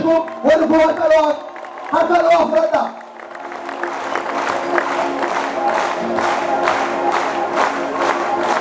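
A church congregation at an evangelistic gathering in Shakiso erupts into loud clapping and cheering after a preacher's chanted voice in the first few seconds. The crowd noise swells into a dense, continuous roar of claps and shouts that lasts to the end.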